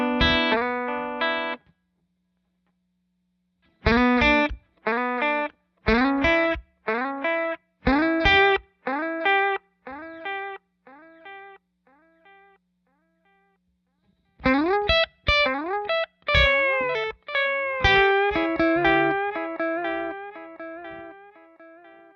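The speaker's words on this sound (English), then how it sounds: "So that's a delay." Electric guitar played through a Wampler Ethereal ambient delay and reverb pedal, short note phrases ringing into repeating delayed echoes that trail off between bursts, bright and close with a chorus-like shimmer.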